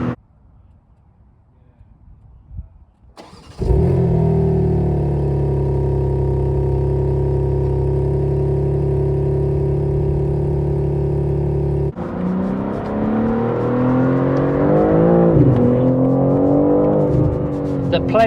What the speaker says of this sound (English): you can hear enough induction and exhaust note that actually is legitly the BMW zone